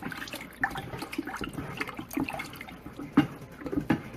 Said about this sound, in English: I'll just pour another jug in here